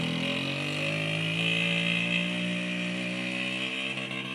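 A small ATV engine runs steadily close by, a buzzing, harmonic drone that rises slightly in pitch then holds, with no talking over it.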